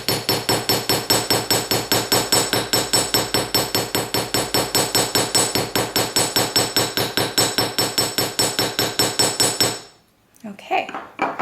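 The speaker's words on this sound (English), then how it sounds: "I can switch over to the embossing hammer on this one." Rapid, steady metallic hammer strikes from an embossing hammer working sheet metal ring out in a fast even rhythm, close and loud, for about ten seconds before stopping abruptly.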